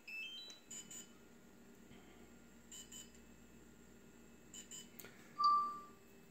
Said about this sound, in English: it'll make a beep